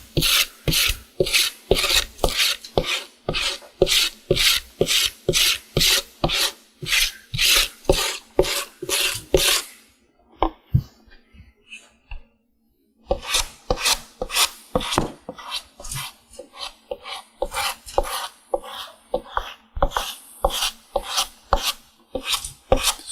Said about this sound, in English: I'm going to scratch the back cantle a little bit just so cement will stick to it